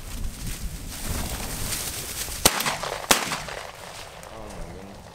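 Two sharp shotgun blasts ring out about half a second apart during a quail hunting competition, loud and close over rustling field noise and wind, with a voice faintly heard afterward.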